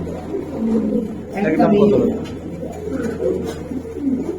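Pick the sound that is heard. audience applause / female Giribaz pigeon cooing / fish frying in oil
female Giribaz pigeon cooing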